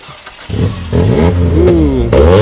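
A 2002 Lancer's engine cranks and catches, then settles into a loud, uneven idle with a couple of revs, close by.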